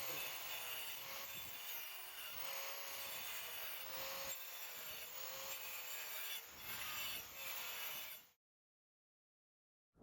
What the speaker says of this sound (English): The next step is cutting the planks based on the marking which we have just done.